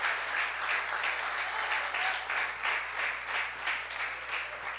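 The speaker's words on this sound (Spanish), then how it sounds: "dele un aplauso al Rey bendito" A church congregation applauding at an anniversary service, the clapping settling into a fairly even rhythm that carries on steadily at moderate volume over a low background hum.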